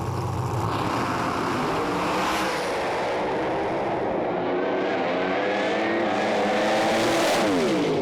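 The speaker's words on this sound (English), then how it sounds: "What a drag race." Pro Slammer drag race cars roar down the strip at Sydney Dragway under lights, a loud sustained engine blare that shifts in pitch as the cars accelerate, with no voices over it.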